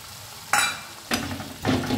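Tomatoes dropped into hot oil with spices frying in a pan for an okra and onion curry, three sharp bursts of sizzling and stirring at close range, each louder than the quiet simmer before it.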